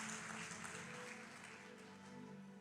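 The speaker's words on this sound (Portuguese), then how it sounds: "Você pode aplaudir a Jesus?" A crowd applauds in a sustained, even wash of clapping, moderately distant and without voices on top.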